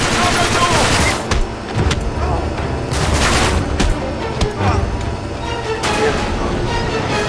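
Gunfire and explosions from the video game Uncharted 3 Drake's Deception, a loud dense barrage of shots and booms during a plane sequence, continuous throughout with a few sharp bursts standing out.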